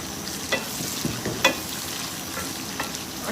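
Onion frying with garlic in oil for a vegetarian onion sambal, a steady close sizzle with a few sharp scraping stirs standing out, no talking.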